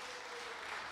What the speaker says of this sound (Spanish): ¡Un aplauso a Guatemala!